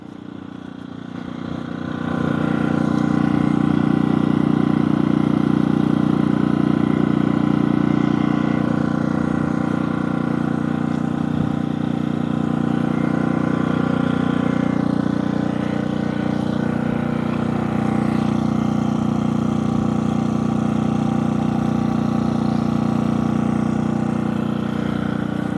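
A DuroMax XP2300iH 80cc dual fuel digital inverter portable generator starts and runs at a steady, droning hum close by, holding a constant level for a long stretch without talk.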